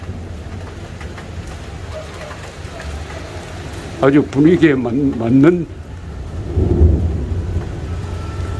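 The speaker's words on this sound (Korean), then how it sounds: "천둥이 치네요." Low rolling thunder and steady rain from a passing storm, with a deep rumble building after a man's brief spoken remark that sits over the storm noise.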